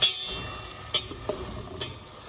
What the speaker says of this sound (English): we're gonna add in 3 green chilies that have been slit in the middle